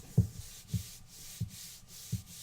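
A hand rubs and burnishes glued paper flat on a mini album page, making four soft, evenly spaced rubbing pulses close by and quiet, with no talking.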